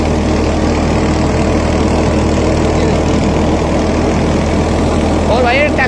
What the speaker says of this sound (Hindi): ट्रैक्टर घूम पर करता है RPM लगभग 100 या 200 RPM ड्रॉप करता है भाई, आवाज के हिसाब से बताऊं